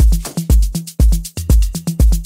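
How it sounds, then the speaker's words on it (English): A real shaker loop plays together with a full drum pattern in an Afro house track: punchy kicks and toms land in a steady repeating rhythm while bright shaker hits fill the gaps, loud and close with no voices. "Then I added this real shaker loop"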